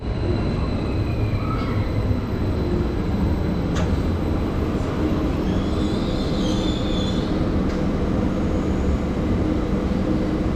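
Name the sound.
train arriving at station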